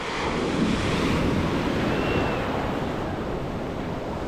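Sea waves at Playa Mamitas beach in Playa del Carmen, recorded from in the water: a steady, close wash of surf with wind buffeting the microphone, continuous and fairly loud throughout with no voices.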